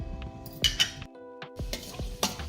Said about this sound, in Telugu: జీడిపప్పు వేసుకొని బాగా ఫ్రై చేసుకోవాలి.